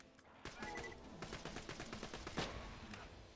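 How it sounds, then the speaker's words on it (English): Rapid bursts of shotgun fire from Borderlands 2 gameplay, loud repeated blasts in quick succession with a stronger shot near the end, alongside game music and effects. "So this gun works. We know this gun works."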